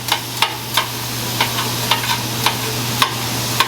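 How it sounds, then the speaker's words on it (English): Metal spatula chopping cheesesteak meat on a sizzling griddle, a steady crackling fry underneath sharp, regular scraping clacks repeating roughly every half second, close and clear with no talk. "I like mine to be in smaller pieces, so I'm doing a chop."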